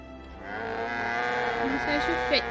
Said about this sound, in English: How are my little calves doing?